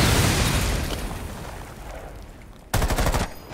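Breach charge going off in a tactical shooter video game: a loud blast opens the clip and rumbles away into a fading roar, then a second sharp burst of bangs hits near the end.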